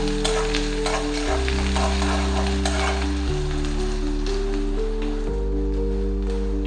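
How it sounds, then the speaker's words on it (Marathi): Chopped onion frying in a pan of hot oil for rava medu vada, a steady close sizzle with soft stirring scrapes, alongside a low layered hum throughout. "कांदा मी थोडासाच परतू देणार आहे, जास्त गोल्डन ब्राऊन करणार नाहीये त्याला"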